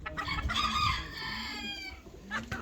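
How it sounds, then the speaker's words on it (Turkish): A Habesh rooster, a young bird from last year's hatch, crows once in a long, clear call, close and loud, with faint farmyard clucking around it. "Bu horozumuz. Habeş."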